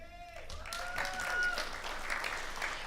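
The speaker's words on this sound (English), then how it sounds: "And hold your applause to the end." Audience applause at an awards luncheon, a brief burst of clapping from a room full of people, moderate and somewhat distant, rising then tapering after a spoken line.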